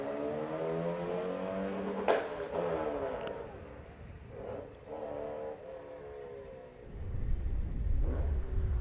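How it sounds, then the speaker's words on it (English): Porsche 944 race car at a grassroots historic sprint event in Leyburn, Australia, its engine droning and rising in pitch, then a deeper rumble building at the end, moderately distant and fairly faint. "Doug Stewart is next in the Porsche 944"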